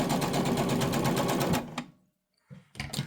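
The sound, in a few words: sewing machine running a thread bunny through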